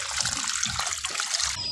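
Water draining and trickling steadily off freshly washed azolla, a continuous close splashy dribble with no pauses and no voices.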